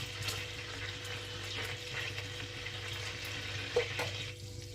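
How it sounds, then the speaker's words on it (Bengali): Ghee sizzles in hot oil left from frying prawns, a continuous close frying hiss with a faint low hum and one small clink near the end. "চিংড়ি মাছ ভাজার তেলটাতেই আমি 1 চামচ গাওয়া ঘি দিয়ে দিলাম।"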